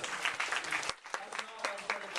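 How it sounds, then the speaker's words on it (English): Applause from a conference audience during a real estate tech event in San Francisco, a dense crackling wash of clapping that dips briefly midway, with voices mixed in. "Give a round of applause."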